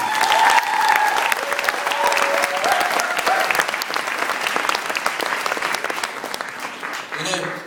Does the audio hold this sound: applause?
yes